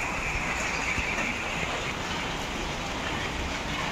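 Steady rain falls at Sigayan Bay beach resort in Batangas after a typhoon, a soft, even hiss of drops with no breaks and no voices.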